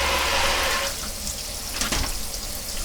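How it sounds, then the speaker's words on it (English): Hot water runs steadily from a kitchen tap into a sink after a pan was cleaned of raw pork, a loud continuous splashing rush that shifts in tone as the flow hits the basin. "So I'm going to run some hot water here."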